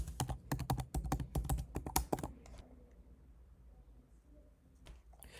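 Rapid clicking keystrokes on a computer keyboard as a password is typed, close and crisp, stopping after about two seconds and leaving quiet room tone with a few faint clicks.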